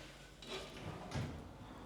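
Small drawers in a built-in dressing unit slide open and shut, giving soft, quiet sliding thumps over faint room noise.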